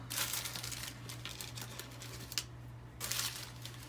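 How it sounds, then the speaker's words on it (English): A large paper napkin from a restaurant is unfolded and folded, giving close, quiet crinkling and rustling in short bursts with a brief pause, over a faint steady hum. "I'm going to open up this huge napkin and I'm going to fold it into eighths"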